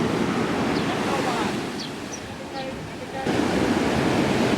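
Sea waves surge and crash continuously on Ujong Blang beach, a loud broad wash of surf with a brief dip and then a renewed rush, mixed with wind buffeting the microphone.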